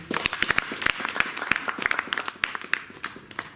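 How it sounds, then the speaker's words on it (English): Sparse applause from a small audience after a talk on storytelling and community, individual claps distinct and irregular, fairly close and modest in volume, fading slightly toward the end. "let's give rounds of applause for Mr. Shingi"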